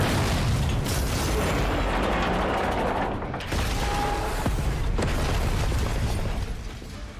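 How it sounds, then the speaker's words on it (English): A convoy blows up in the video game Girls Frontline 2, a sustained, loud rumbling blast with heavy low roar and crackling debris lasting several seconds, a brief dip midway. "Explosion confirmed."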